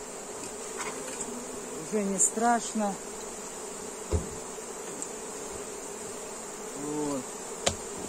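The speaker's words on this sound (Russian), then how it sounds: "Основную часть мы пчел сняли." A swarm of stray Buckfast bees buzzes steadily at an apiary, a continuous insect drone close to the microphone, with brief bursts of people talking over it.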